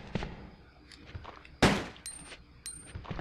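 Gunfire in Resident Evil 2: a few sparse handgun shots, one sharp loud blast standing out, followed by light metallic clinks in a quiet setting.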